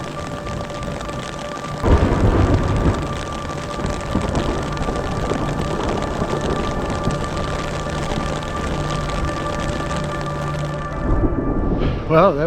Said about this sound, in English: Got some thunder and a little lightning